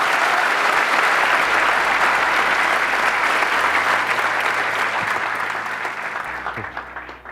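Sustained applause from an audience at a live motivational talk, loud and dense from the start, then slowly thinning and fading toward the end.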